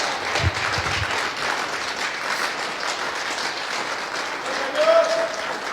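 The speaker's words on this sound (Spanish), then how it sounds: "Dale un aplauso si se lo vas a dar." Church audience applauding steadily throughout, a dense wash of clapping at moderate loudness with a brief cheer or whistle near the end.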